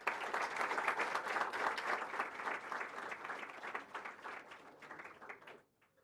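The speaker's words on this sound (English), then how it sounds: "Y'all deserve a round of applause for that." A crowd applauding, dense clapping that holds steady for several seconds before fading out.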